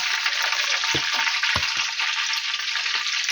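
Steady, close-up sizzling of chebureki pastries frying in hot oil in a pan, with a few soft clicks and taps from cookware, no voices.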